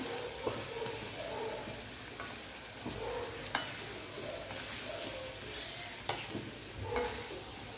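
Potatoes fry with curry masala in a small kadai, a soft steady sizzle broken by occasional stirring scrapes and clinks, close but fairly quiet.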